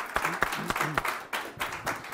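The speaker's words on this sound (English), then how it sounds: "Please offer uh, Rick another round of applause" A round of applause for a speaker at a weather and climate summit, scattered distinct claps from a modest audience, fairly close, with short gaps between bursts and a faint voice mixed in.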